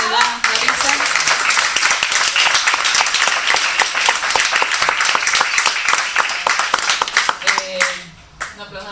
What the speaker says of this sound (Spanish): No aplaudamos todavía